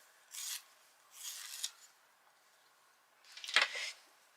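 A colouring pencil is sharpened in three short, dry rasping bursts separated by pauses, quiet and close, with the last burst slightly louder.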